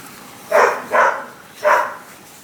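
A dog barks upstairs, three distinct barks spaced unevenly over a couple of seconds, moderately loud with a slightly distant, indoor character.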